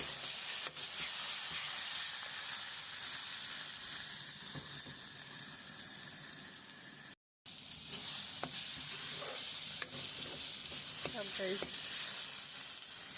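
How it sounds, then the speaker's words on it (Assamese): Spices and pointed gourd with potatoes stirred in frying oil, a constant close hissing sizzle with scattered spatula scrapes and taps, briefly cutting out for a moment midway. "এইখিনি ভালদৰে লৰাই লওঁ।"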